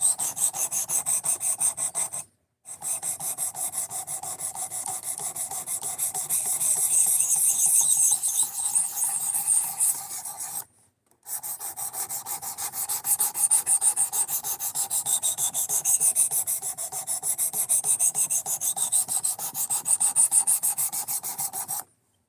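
A knife is drawn against a sharpening stone held in a guide, giving steady rhythmic rasping strokes, close and fairly loud, in long runs broken by two short pauses.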